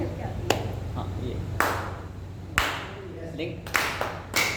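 An audience claps slowly, five single hand claps spaced about a second apart, each sharp and close. A steady low hum and faint murmuring sit underneath.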